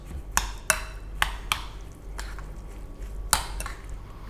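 Spoon strokes through yogurt cucumber raita with salt and spices, a few soft wet squishes and clicks against the bowl in an uneven rhythm, close and fairly quiet.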